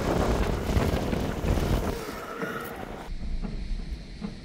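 Gusting wind blows across a sailboat underway broadside to the wind, a loud buffeting roar that rises and eases in waves, with hull and water noise underneath and no voices.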